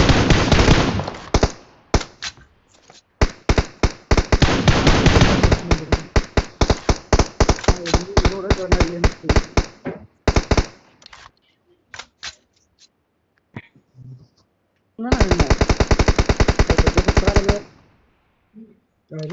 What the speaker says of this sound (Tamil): என்ன புல்லட் வர சவுண்ட் கேக்குது எனக்கு